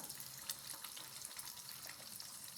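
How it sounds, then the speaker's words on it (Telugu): Garlic fries gently on a low flame, giving a soft, continuous sizzle with small crackles and pops. The sound is close but quiet, and no one speaks over it. "దీన్ని కొంచెం సిమ్లో పెట్టి దీన్ని బాగా వేపుకోవాలండి."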